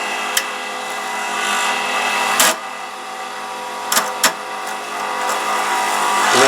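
Steady lathe turning on a 7mm closed-end pen blank, a continuous close hiss of gentle tool cuts with a few brief sharp catches or scrapes, no talk.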